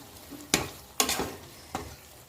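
A spoon scrapes and knocks through capsicum masala curry mixed with paste in a pan, three distinct stirring strokes over a soft background sizzle, close by and without speech.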